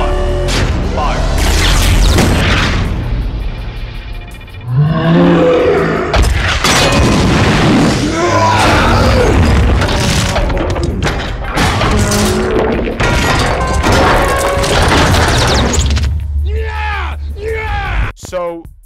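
Heavy booms and explosions from a destroyer's prototype weapon firing in a Transformers: Revenge of the Fallen battle scene, loud repeated blasts with rumbling crashes, mixed with shouted voices and a score.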